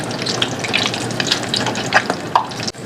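An egg frying in a pan for Indonesian nasi campur, sizzling steadily with crackly pops and spits throughout, close and fairly loud.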